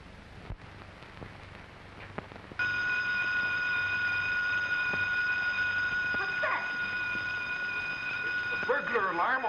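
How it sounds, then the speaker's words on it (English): A burglar alarm on a garage starts ringing abruptly and keeps up a loud, steady electric bell tone, with faint background noise and brief bursts of voices near the end. "Burglar alarm on the garage."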